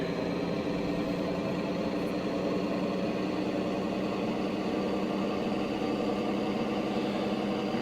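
A Class 14 diesel locomotive of 650 horsepower powers up in Train Simulator Classic, a steady, droning engine rumble with a constant hum that holds at one level throughout, and no talk.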